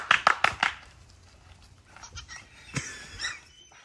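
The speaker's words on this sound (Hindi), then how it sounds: "बेहोशी के लक्षण वाली बकरियों को मायोटोनिक बकरियां कहा जाता है" A myotonic fainting goat gives a quick run of short, sharp bleats up close, followed by quieter scattered bleats and rustling, fairly loud at first then fading.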